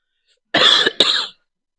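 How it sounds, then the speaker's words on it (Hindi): A single close, sharp cough in two quick bursts, loud against silence. "खांसी हो रही है।"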